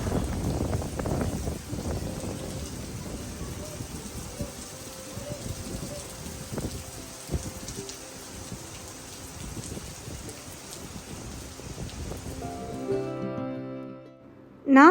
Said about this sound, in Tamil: செம்ம காற்றாக இருக்குது பாருங்கள் வெளியிலலாம்